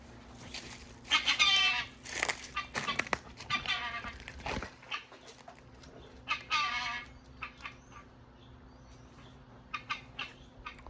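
Chickens clucking and squawking in bursts around a farmyard where a rooster is being brought in, with broadband calls at irregular intervals, some close and some farther off, over a steady low hum.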